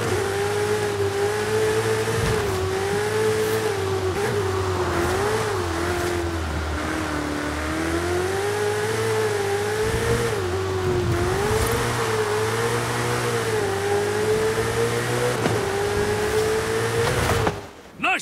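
A car in the Forza Horizon 5 video game drives and revs steadily, its engine droning loudly and continuously with rising and falling pitch as it accelerates, then cuts off abruptly at the end.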